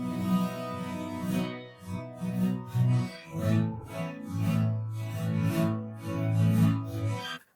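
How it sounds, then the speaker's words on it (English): Sustained tonal chords and swells processed through the ADPTR Audio Utopia reverb plugin, a dense, washed, slightly distorted tail with rhythmic pulses rising and fading over several seconds, with no talk. "Playing with the length will hugely change the sound of the reverb"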